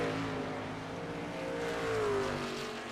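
A race truck in a motorsports truck series roars from an overhead engine camera, a steady, fairly close engine drone with shifting pitch that holds throughout.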